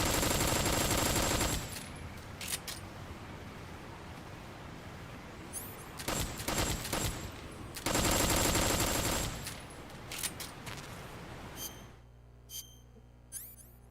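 Bursts of rapid gunfire in Metal Gear Solid 3 crackle loudly in several separate volleys with short quieter gaps between, trailing off into near silence at the end.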